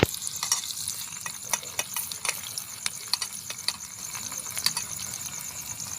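Onions and green chilies frying in a pan over a village wood-fired stove, with a steady sizzling hiss broken by sharp crackles and pops, close up and alone without talk.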